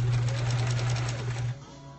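A sewing machine stitches a quilt block in a steady, fast run lasting about a second and a half, loud and close, then stops and leaves a low hum.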